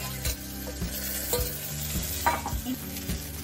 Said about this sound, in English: I have sauteed both the tomatoes and Manathakkali leaves